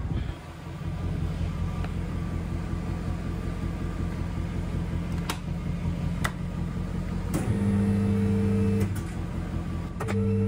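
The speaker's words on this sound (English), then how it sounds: "gonna bring the car down and I'll just jump in and go for the gears again." Jaguar XK8 (X100) automatic gearbox being run through its gears after a gearbox service: a low steady engine hum with faint clicks and a brief change in drone near the end, no voices.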